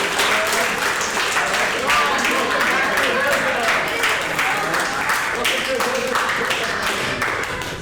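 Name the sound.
applause for Sensei Sean at karate class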